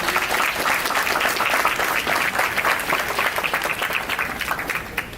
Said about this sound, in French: J'invite l'assistance à les applaudir.